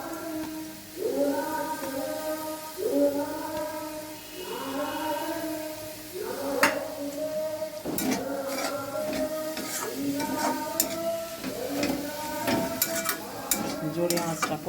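Chicken mixture with coriander leaves and green chilli frying in a pan, continuous sizzle under repeated rhythmic scraping stirs and occasional metallic clinks, close by, with faint voice-like tones woven in.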